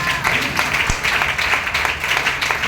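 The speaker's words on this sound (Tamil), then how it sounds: "இந்த கைதட்டு பட்டாதுன்னு நினைக்கிறேன்" Congregation clapping at a sermon, a loud, fast, continuous patter of many hands with some crisper individual claps standing out near the front.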